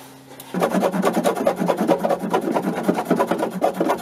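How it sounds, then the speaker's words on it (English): A handsaw cuts plumbing pipe for a 125-gallon reef tank setup, making fast, steady back-and-forth rasping strokes close by with no talking. "Get my handsaw."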